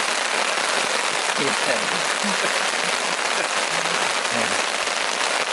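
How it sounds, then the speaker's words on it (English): Steady pouring rain at a lakeside campsite in Algonquin Park, drumming continuously on a tent and the ground, loud and close, with a few low muffled bumps underneath and no talking. "the rain started to pour"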